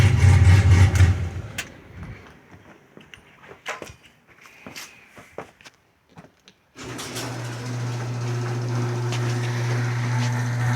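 A 1999 Firebird with an LSX engine idles in a garage with a steady, loud low rumble at the start and again in the second half, separated by a stretch of clattering, knocks and handling noises.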